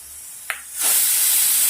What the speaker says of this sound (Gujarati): આપણે કુકરની સીટી પણ પડી ગઈ છે